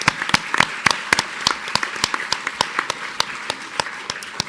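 Scattered, uneven applause from a modest audience at a League of Women Voters candidate forum for Lake Forest mayor, with individual claps standing out sharply over a low murmur of room noise.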